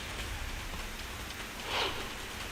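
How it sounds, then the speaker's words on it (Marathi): Rain falls steadily in Dharashiv district, a dense, even hiss of drops on surfaces with one brief swell of louder spatter near the end and no voices. "धाराशिव जिल्ह्यात रात्रीपासून पावसाला सुरुवात झाली"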